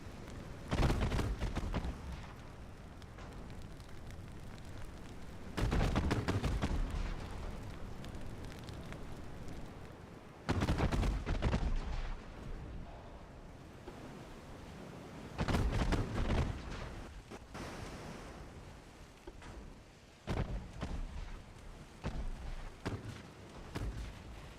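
Salvos from the 5-inch guns of light cruisers in Ultimate Admiral Dreadnoughts, booming volleys repeating about every five seconds, each a loud cluster of thuds trailing into rumble over a quiet ambient bed.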